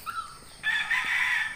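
A rooster gives a short, clear crow among chickens, rising after a faint cluck, fairly close and alone without talk.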